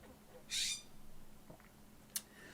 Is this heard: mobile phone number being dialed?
no